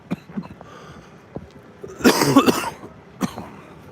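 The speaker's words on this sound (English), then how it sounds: "still got a little bit of a cough going" One close, loud cough bursts out amid quiet background noise on a Los Angeles street, followed a moment later by a shorter throat sound.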